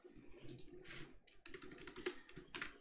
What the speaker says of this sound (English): So let's type down some rules.